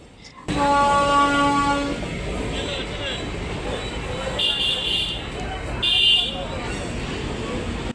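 A train locomotive being turned around, with a loud horn-like tonal blast at the start, then rumbling mechanical rail noise and a couple of brief squeal bursts, close by.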